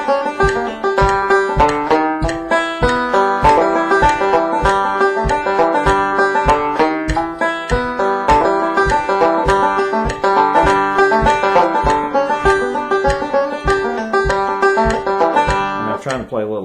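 Banjo picking steady eighth-note rolls over a ticking metronome, bright and continuous at an even tempo.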